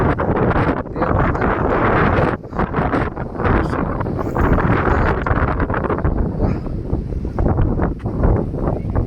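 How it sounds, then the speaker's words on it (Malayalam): Strong gusty wind buffets the microphone on the hilltop at Ramakkalmedu, a steady loud roar of wind noise with no break across the whole stretch. "ശക്തമായ കാറ്റാണ്."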